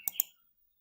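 Two quick plastic key presses on a calculator, crisp and close, followed by silence.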